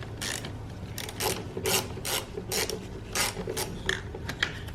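Rapid, close ratchet clicking in repeated short bursts while loosening the battery terminal nut on a 2015-2023 Chevrolet Trax, over a steady low background hum.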